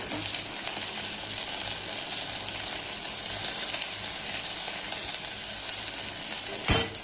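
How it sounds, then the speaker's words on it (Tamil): Onion with ginger-garlic paste frying in a pan, a steady close sizzle and hiss that runs evenly, ending with a sudden loud clank near the end. "அடுத்தது வெங்காயம், கொஞ்சம் இஞ்சி பூண்டு விழுது"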